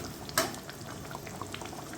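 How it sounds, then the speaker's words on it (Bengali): Tilapia being stirred and sautéed with spices in a pan for a spinach and eggplant fish curry, giving a steady low bubbling sizzle with one brief louder scrape near the start and no talk. "এখন আমি এই মশলার সাথে এই মাছটা খুব ভালোভাবে নাড়াচাড়া মিশিয়ে দেব"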